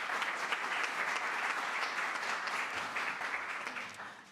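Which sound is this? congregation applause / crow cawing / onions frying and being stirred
congregation applause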